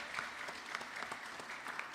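Applause for a girl's 13th birthday at a Vasant Navratri gathering: a steady, moderately quiet patter of many hands clapping together with no talk over it.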